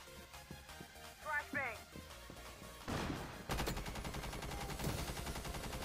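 Gunfight in the mobile shooter Rainbow Six Mobile, with bursts of automatic rifle fire and single shots cracking close and loud, a rapid sustained volley in the second half, while a player talks over the action.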